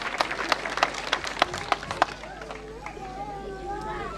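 An audience at a Kenyan political gathering bursts into applause for a young member of parliament from Manyata, a short patter of claps fading as a voice begins speaking over a public address system.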